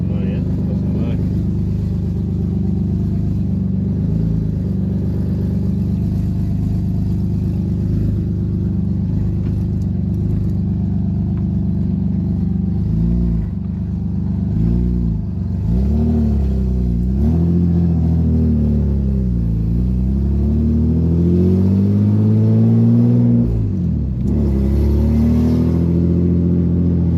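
A car pulls away and accelerates on a test drive with a smooth-shifting manual gearbox, its engine rumbling loud and close from inside the cabin, revs rising and falling through gear changes. A person talks over the engine.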